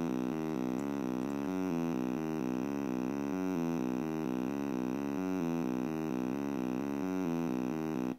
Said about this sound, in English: And here's the square wave.